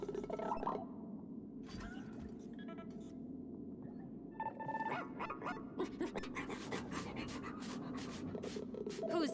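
A robot dog in the video game ReCore gives electronic-tinged yips and barks in short bursts over game music and ambience, with a voice talking at moments.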